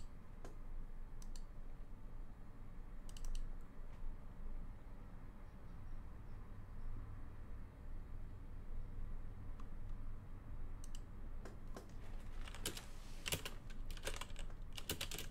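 Typing on a computer keyboard while writing code, a steady run of soft key clicks with brief louder bursts of keystrokes near the end over low room hum.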